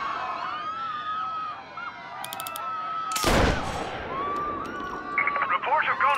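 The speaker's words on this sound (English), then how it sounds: "Reports of gunfire at the Turnbull rally." A single loud, sharp gunshot cracks out midway through a rally scene in the video game Mafia Definitive Edition, set against steady background game sound with voices and crowd noise, followed by scattered sharper noises.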